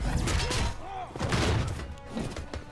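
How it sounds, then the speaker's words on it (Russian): A game explosion in Marvel Strike Force: a few heavy booming thuds and crashes spread over about three seconds, loud and close, with a dense rumbling texture between the blasts. "Взрыв."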